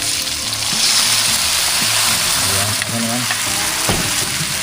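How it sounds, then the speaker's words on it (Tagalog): Coconut milk goes into a pan of crabs and chilies already frying, and the loud sizzle keeps up a dense crackle with occasional stirring scrapes and a watery bubbling undertone, close-up and steady. "Tapos po maglagay na tayo ng gata."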